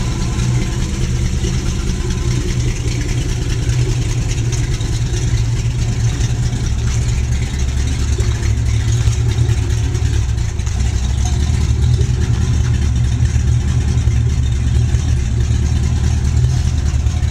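A GAZ-24 car fitted with a V8 engine runs cold just after starting, giving a steady, loud low rumble throughout with no speech.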